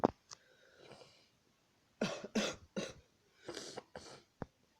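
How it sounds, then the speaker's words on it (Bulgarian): Several dry coughs and throat-clearing bursts in close succession, near and fairly loud, with short quiet gaps between them. "Извинете за това, че кашлям и имам цивки."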